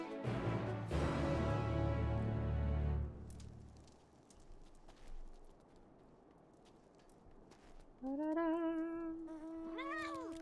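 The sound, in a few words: cat meowing in Final Fantasy XIV video game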